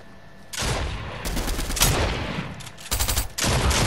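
Rapid gunfire erupts in bursts during a Fortnite match, loud and close, with several volleys separated by short gaps.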